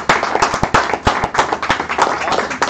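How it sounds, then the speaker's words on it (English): Audience clapping at a business associates' live-streamed meeting, a brisk, uneven patter of many hands held steady and fairly close for a few seconds. "so let's give a round of applause for that."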